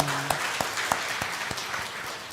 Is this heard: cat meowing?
no